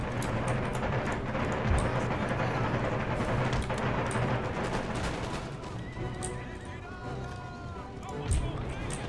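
Horses neigh and whinny amid a noisy Empire: Total War battle, with hoofbeats, gunfire and crowd clamour filling the mix; a horse call rises near the end over steady background din, with some speech mixed in.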